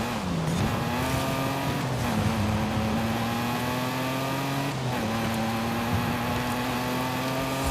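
A racing car engine in the Forza Horizon 5 video game drones loud and steady at high revs, with brief dips as the car shifts gears, close and continuous throughout.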